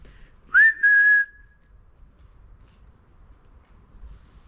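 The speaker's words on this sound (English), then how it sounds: "Could you try and copy this whistle" A single short, clear whistled note rising then held, heard alone near the start inside a railway tunnel, followed by quiet background noise.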